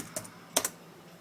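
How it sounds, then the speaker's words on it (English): A few quick keystrokes on a computer keyboard, two or three soft clicks close by in a quiet room. "I'm going to type it in."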